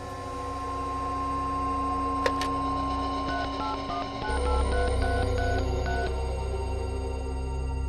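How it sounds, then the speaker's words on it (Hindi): A telephone dials out in a crime drama: a steady tone, then a quick run of short keypad beeps, with an abrupt click and a low hum underneath, and no voices. "नीलिमा जरा अमित को फोन करो, देखो तो कहां पर है वो"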